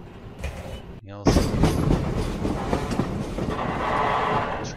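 A moving train in Fate by Numbers rumbles and clatters steadily, loud and close after a brief quiet moment, with a rising mechanical whirr and faint rhythmic wheel noise.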